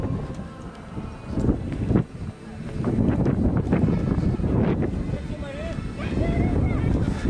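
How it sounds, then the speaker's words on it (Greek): Steady wind buffeting a microphone outdoors, rumbling and gusting continuously at close range, with low voices and faint background sounds beneath it. "Φυσάει λίγο αεράκι."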